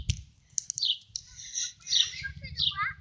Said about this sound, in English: Okay, Liam, we found a baby bird.